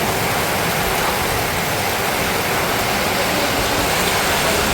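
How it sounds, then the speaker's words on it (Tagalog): Loud, constant downpour: a thick wash of rain noise with no pauses or other sounds. "Lakas po ng ulan."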